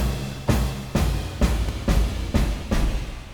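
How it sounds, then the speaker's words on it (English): Seven evenly spaced marching drum hits, each a snare crack layered with a washy crash cymbal, loud and rhythmic, with no voices. "Just marching drums, you can hear the snares, the crashes, and kind of kicks all in into one."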